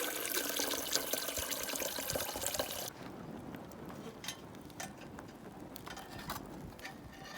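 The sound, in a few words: water filling a billy can for boiling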